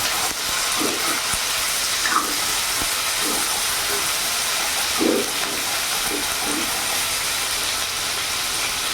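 Chopped onion frying in a pan over a medium gas flame, a steady loud hiss with faint scattered pops and clinks.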